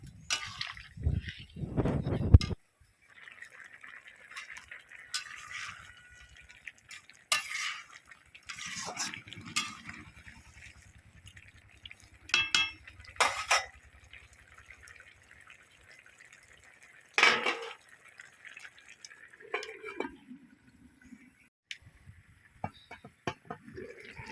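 Faint kitchen sounds from a pot of spinach and mixed vegetables being stirred, with water added: sparse drips and splashes, soft clinks of utensil against the pot and a brief pour, scattered across long quiet stretches.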